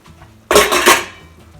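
A lid lifts off a cooking pot of tuvar dal with a sudden loud metallic clatter and brief rattle, followed by a fading ring and a low simmer underneath, close up with no talking.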